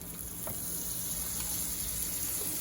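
Chunked potatoes browning in a pan of butter and bacon fat give a faint, steady sizzle with a soft continuous hiss and occasional small pops, heard alone without talk.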